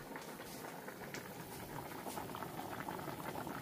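Liquid poured into a boiling pot of soup with tofu and onion leaves, a steady bubbling and sloshing pour that holds at an even, moderate level throughout.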